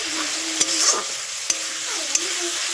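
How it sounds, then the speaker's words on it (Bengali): Spice paste of ground coriander, bay leaf and dried chilli being stirred and fried in oil with a little water, a steady sizzle broken by a few sharp scrapes of the spoon against the pan. "তারপর জল দিয়ে ভালো করে কষে নেব মশলাটা। ভালো করে নাড়াচাড়া করে নিচ্ছি।"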